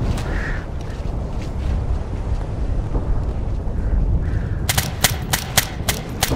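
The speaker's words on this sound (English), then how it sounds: "Taking fire over here." Gunfire from the video game Operation Flashpoint: Red River, a run of sharp, evenly spaced shots near the end over a constant roar of wind and background rumble.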